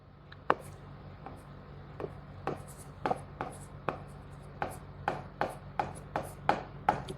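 Writing on a board during a lecture comes as a steady series of about a dozen sharp taps and short strokes, evenly spaced and moderately close, with no speech.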